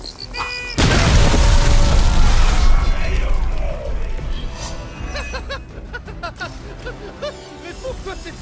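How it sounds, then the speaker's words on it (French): In the video game Marvel's Midnight Suns, a grenade goes off with a sudden loud, deep boom that rumbles for several seconds, then fades under layered game effects and light chiming tones. "Petite grenade."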